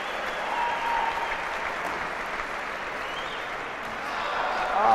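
Crowd at a squash match bursts into sustained applause and cheering, a dense steady roar of clapping that swells slightly toward the end.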